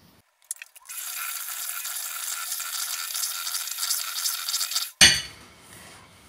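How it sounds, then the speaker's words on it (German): Steady scraping and swishing as cake batter with eggs is stirred in a bowl for several seconds, followed by a clink and a short clatter. "Und dann verrühre ich das Ganze zu einer homogenen Masse"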